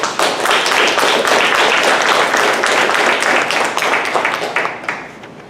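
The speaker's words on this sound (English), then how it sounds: "So enormous applause for Farah." Sustained crowd applause, dense and loud, with many hands clapping together before tapering off toward the end.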